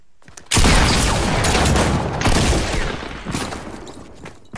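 A loud burst of gunfire in Fortnite starts abruptly and keeps going in a dense, booming volley for several seconds before easing off.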